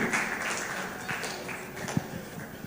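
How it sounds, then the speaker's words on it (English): Audience applause at an HSSE business forum, a soft, somewhat distant patter of clapping hands with a murmur of voices and a single sharper knock partway through. "Please, a round of applause for him."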